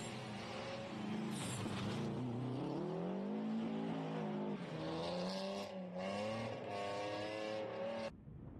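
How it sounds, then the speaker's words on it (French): An Opel Astra rally car races at a sprint rally, its loud engine close and revving hard through rising and falling gear changes for several seconds before cutting off abruptly, with no voices. "Soulignons également la présence et le manque de réussite du luxembourgeois Pascal Haken au volant de cette Opel Astra"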